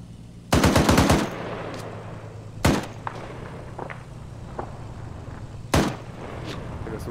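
Machine gun fire in the military game ArmA: one loud rapid burst of shots near the start, then two single heavy reports a few seconds apart, with faint distant gunfire and a low engine rumble underneath.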